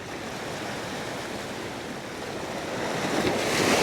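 Ocean surf at an Atlantic inlet near the beach, a steady broadband wash of waves mixed with wind buffeting the microphone, swelling louder toward the end.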